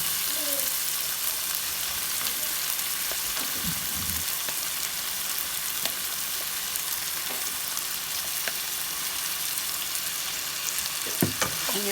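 Shrimp sizzle and fry in a discada while being stirred, a continuous hiss of hot fat with occasional sharp clinks and scrapes of a utensil against the metal, close and steady.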